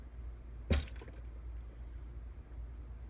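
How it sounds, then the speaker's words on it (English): A decapping pin on a Dillon RL550 reloading press knocks the spent primer from a pistol case with one sharp, quiet metallic snap near the start, followed by a faint rattle and low room hum. "At the same time, you'd hear the decapping pin going off"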